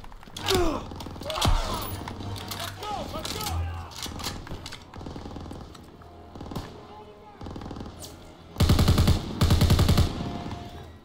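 Gunfire rattles through a Call of Duty: World War II battle, with scattered single shots and short bursts, mechanical clanks and a pair of loud, dense volleys near the end, while voices are heard in the mix.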